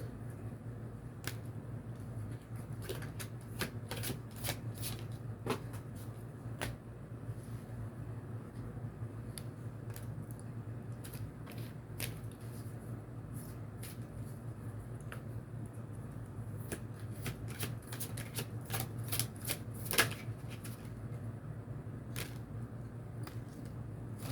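Stiff tarot cards being shuffled by hand: crisp, irregular snaps and clicks scattered throughout, some in quick clusters, over a steady low background hum.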